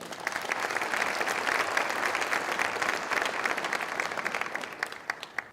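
An audience at the 2017 LPEA annual meeting applauds board members with sustained, even clapping that fills the room, then tapers slightly near the end.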